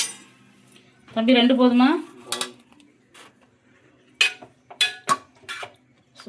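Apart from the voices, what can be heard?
ladle clinking on pots while serving gravy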